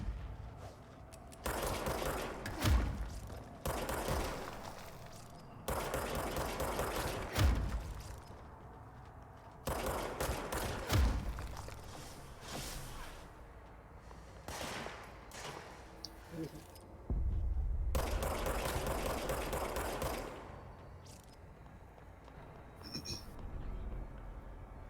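Player gunfire in the video game Control comes in repeated bursts of rapid shots, loud and close, separated by short quiet gaps, with game ambience between the volleys.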